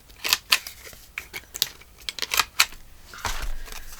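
A corner rounder punch clips paper corners to a half-inch radius, giving several sharp close clicks and snaps in an uneven rhythm, followed by a brief rustle of handled paper.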